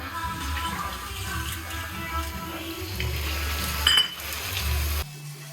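Water poured into a hot pan of halwa sets off a steady hiss and sizzle lasting several seconds, close and moderately loud, before cutting off abruptly.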